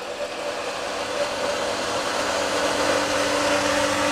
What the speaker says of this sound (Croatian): čujete pumpu kako radi.